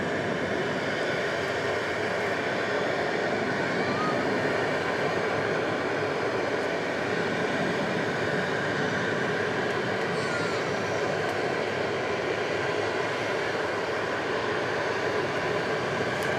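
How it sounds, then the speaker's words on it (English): Airbus A300 taking off at night at DFW Airport, a steady loud roar of jet engines sustained throughout with broadband rumble and no talk. "A300 off to Ontario, California."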